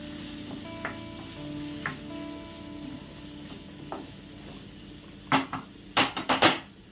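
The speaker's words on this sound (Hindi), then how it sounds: "अभी एक तिल डाल देंगे, ये सेका हुआ तिल है," Roasted black sesame seeds go into a pan for a sesame and potato chutney, giving a soft steady sizzle with light scraping, then a quick cluster of sharp metallic clinks and taps near the end.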